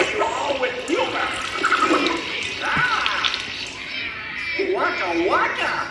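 Water sprays out during the Muppet*Vision 3D show at Hollywood Studios, a hissing, splashing gush in short bursts heard under character voices and audience reaction.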